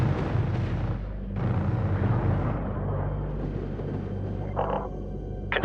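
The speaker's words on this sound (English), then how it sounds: "Confirm kill. Frigate destroyed." A frigate blows up in the Homeworld 3 space strategy game, a deep rumbling blast that swells and lingers with crackling debris, followed by a brief higher burst near the end, with no voices.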